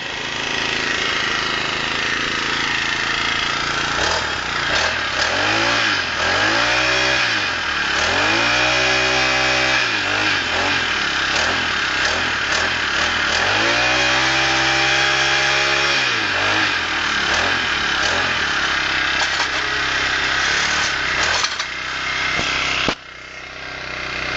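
A small four-cycle weedeater/tiller engine with a freshly rebuilt carburetor runs steadily and loudly close by, its pitch rising and falling through a couple of throttle blips before cutting sharply near the end.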